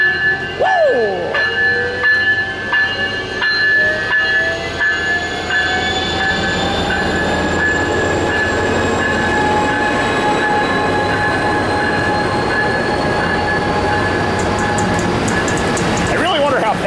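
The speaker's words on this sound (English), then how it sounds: "I really wonder how packed this train is." An Amtrak passenger train passes through Fullerton station, a loud, steady rumble of rolling cars overlaid with sustained tonal whines and squeal, continuing for about sixteen seconds before a short burst of noise at the end.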